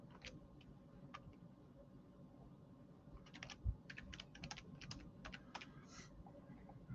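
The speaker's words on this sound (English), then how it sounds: "I'm typing a subject here." Quiet, close clicking of keys on a computer keyboard, scattered taps at first and then a quicker burst of typing in the second half, with no talking.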